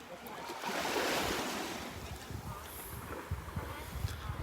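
Surf washing onto a beach in North Naples, Florida, a broad steady wash that swells early on and then settles, with wind rumbling across the microphone throughout.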